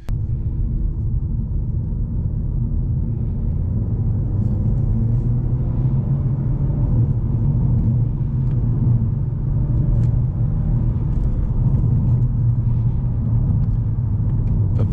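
A SEAT Leon Cupra 240 with a firm ride is driven along a bumpy road, heard from inside the cabin as a steady low engine and road rumble for the whole stretch, with no talking.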